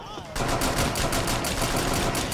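Rapid pistol fire in the Rainbow Six Siege video game, starting suddenly and continuing as a fast, even string of sharp shots, loud and close, with the pace almost like an automatic weapon.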